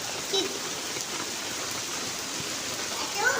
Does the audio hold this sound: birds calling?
no